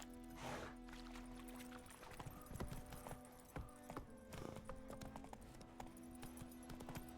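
Horse hooves clip-clop on the ground in The Witcher 3, a steady trotting rhythm of sharp, fairly faint hoofbeats over a soft ambient game background.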